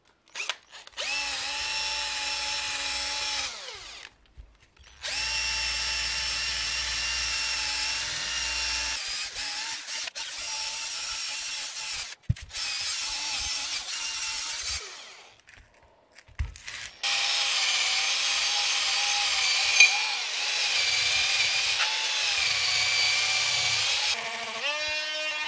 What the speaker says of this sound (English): just going to use this drill and get rid of all the dirt and make it a nice surface to be able to be painted